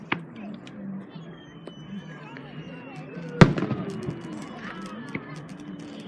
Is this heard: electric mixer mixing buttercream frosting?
no